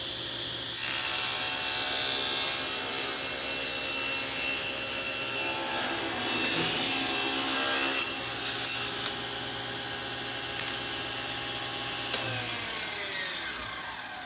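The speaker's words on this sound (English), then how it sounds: "I'm going to go ahead and rip this board." A table saw rips a wooden board, its blade whining steadily near and loud for about eleven seconds over a shop vacuum's roar, the cut and motor winding down toward the end.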